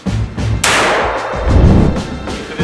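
A single powerful gunshot from a .454 Casull Magnum hunting revolver, a loud sharp blast with a long rumbling tail, preceded by some low handling noise and a faint trailing echo.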